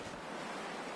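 Howling wind in the survival video game The Long Dark blows as a brief, dense, unbroken roar, loud and steady throughout.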